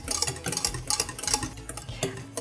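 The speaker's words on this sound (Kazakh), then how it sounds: "Енді креміміз қоюланғанша үнемі араластырып отырамыз." Custard cream being stirred constantly in a metal pot on the stove, with a brisk run of scraping, ticking spoon strokes against the metal and a soft bubbling undertone, close and steady with no talk.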